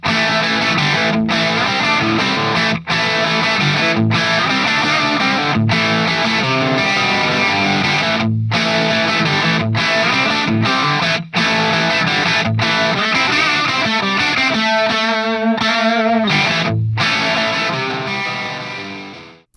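Distorted electric guitar riffs through a handwired Plexi-style boutique amplifier play loud and continuous, with chugging palm-muted chords, short rhythmic breaks and a few sustained ringing notes toward the end.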